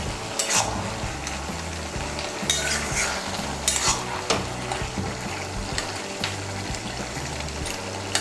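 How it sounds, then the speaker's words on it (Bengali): A fried fish head is stirred into bottle gourd in a pan for a Bengali dish, with steady frying sizzle under repeated scraping stirs and occasional utensil clinks, close and alone. "মাছের মাথাটাকেও লাউয়ের সঙ্গে ভালো করে মিশিয়ে নিয়েছি"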